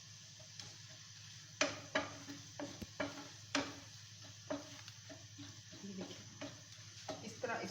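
Egg tikki broken up and mixed with onions fries on a pan, with a steady soft sizzle punctuated by sharp scraping and tapping strokes from a spatula, close up, while someone talks briefly.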